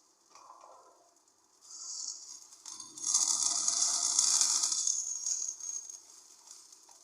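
Sautéed onions sizzle and hiss in a pan for a Tamil fish curry, starting faint and swelling into a loud, sustained frying hiss that fades toward the end.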